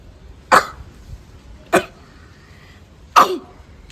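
Three sharp, separate coughs from one person, spaced about a second apart and fairly close, with quiet room background between them and no talking.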